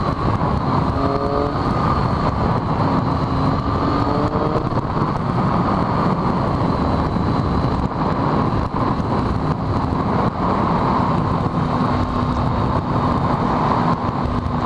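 A Triumph Daytona 675 motorcycle ridden along roads through Royal National Park in the Australian wilderness, with a loud, steady engine drone and heavy wind rush throughout, close and continuous.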